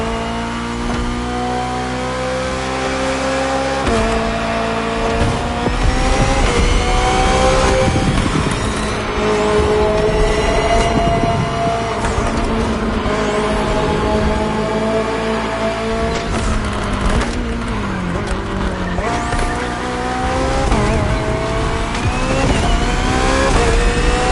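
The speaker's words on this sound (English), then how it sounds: "The BMW M Hybrid V8. What a beast." BMW M Hybrid V8 endurance race car, built in 2023 for races like the 24 Hours of Le Mans, roaring loudly in The Crew Motorfest with sustained revving, gear shifts and rising pitch, under a backing music bed.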